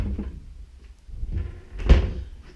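A wardrobe door in a flat's bedroom is opened or closed, soft creaks and shuffling and then one sharp knock near the end, all close and alone.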